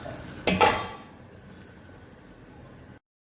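A lid set onto a pot of peanut sauce, with one close metallic clank followed by a faint lingering ring and a quiet low background hum.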